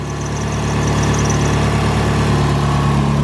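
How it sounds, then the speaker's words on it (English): A Chrysler PT Cruiser GT engine idles with a worn drive belt, giving a loud, steady low rumble close by with a faint high-pitched squeal early on. "my belt sounds like crap"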